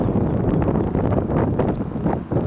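A breeze blows outdoors beside a pond with cattails, buffeting the microphone in a loud, continuous rushing roar with gusty swells and no voices.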